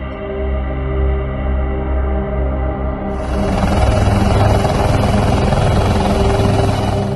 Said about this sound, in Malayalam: ഹെലികോപ്റ്റർ ഉപയോഗിച്ചുള്ള പ്രത്യേക ദൗത്യസംഘത്തിന്റെ തിരച്ചിൽ ഇന്ന് സൂചിപ്പാറ വനമേഖലകളിൽ നടന്നു.